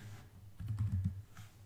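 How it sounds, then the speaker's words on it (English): Soft keystrokes on a computer keyboard, a short quick run of clicks in the middle followed by a single tap, faint and close with no talking. "So let's start typing."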